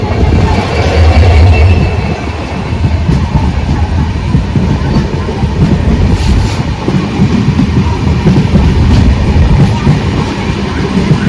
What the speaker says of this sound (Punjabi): ਇਹ ਲੋਕਲ ਟ੍ਰੇਨਾਂ ਇੱਥੇ ਚੱਲਦੀਆਂ